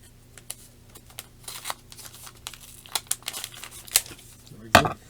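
Someone tears open an eBay mail envelope holding trading cards, producing close paper crinkling and ripping that builds to a sharp tear near the end, with speech softly underneath.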